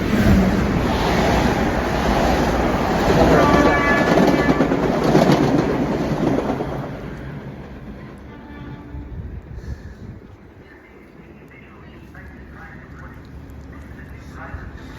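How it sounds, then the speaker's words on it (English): A Southeast train rushes past close by with a loud, broad rumble and rattling wheels, then fades into a softer, distant rolling noise after about seven seconds. "there's the Southeast train."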